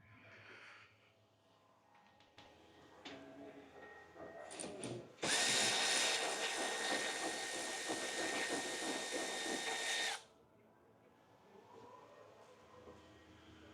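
A power drill runs for about five seconds, loud and steady, removing screws and Torx fasteners from the front bumper of a 2023 or later Ram ProMaster van, with quieter clicks and handling before and after.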